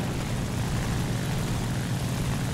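Steady propeller fighter-plane engine drone in the War Thunder video game, a continuous broadband roar that holds constant and fairly loud throughout with no talk over it.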